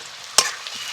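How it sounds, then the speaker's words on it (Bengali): Chopped onion and chillies lightly frying in oil, stirred once with a sharp scrape-and-hiss burst over a constant soft sizzle, close up with no voices. "পেঁয়াজটাকে হালকা ভাজা ভাজা করে নিয়েছি।"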